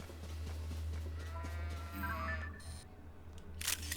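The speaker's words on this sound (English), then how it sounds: "What about sheep? Highland sheep." A Highland sheep in Zelda: Tears of the Kingdom gives a wavering bleat over a steady low background hum, fairly faint and heard alone, followed by a short bright click.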